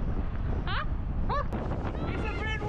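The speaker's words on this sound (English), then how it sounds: "It's a bit windy!" Strong wind buffets the microphone beside a glacier-fed lake in New Zealand, a steady low roar throughout, with brief chirpy sounds above it.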